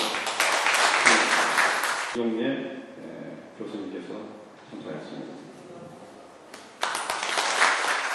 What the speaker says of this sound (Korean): 많은 박수로